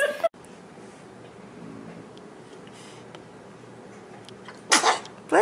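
After a quiet stretch of room hum, a baby lets out a short sneeze burst near the end, followed by a brief second sound, close and fairly loud.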